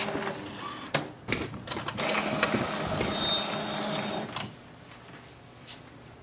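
An Epson XP-7100 inkjet printer printing, a few seconds of whirring mechanical feed and print-head motion with clicks at the start, then the machine stops and leaves quiet room tone.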